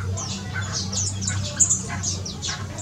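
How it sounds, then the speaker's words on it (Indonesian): Javan bird, known locally as the flamboyan bird, calling near its nest in a mixed colony: a close run of bright chirps and squawky tweets, with one sharp peak midway, over a low steady background hum. "Kayak contohnya burung gergan Jawa ini, atau yang biasa disebut burung flamboyan ya"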